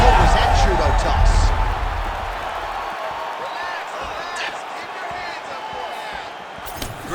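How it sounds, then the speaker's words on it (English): A crowd roars in the EA Sports UFC 5 video game as a calf kick lands: a loud, broad arena swell at the start that eases into a steadier murmur under a commentator's voice. "you can hear the crowd as yet another calf kick lands"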